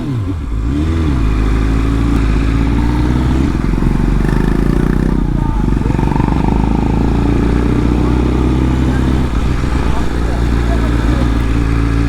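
A BMW S1000RR M-Sport motorcycle rides along with a loud, continuous engine drone and road rumble, the pitch rising and settling as the rider accelerates, with wind buffeting close to the microphone.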